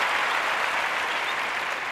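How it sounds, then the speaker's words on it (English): Audience applause for a woman named Carmen, a dense, even wash of clapping from many hands, loud and continuous with no talk over it. "Round of applause for her."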